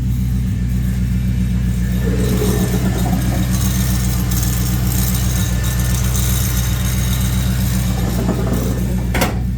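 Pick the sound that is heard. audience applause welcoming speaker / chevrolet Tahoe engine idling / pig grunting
chevrolet Tahoe engine idling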